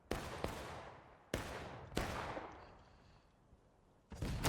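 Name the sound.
artillery shot landing in a video game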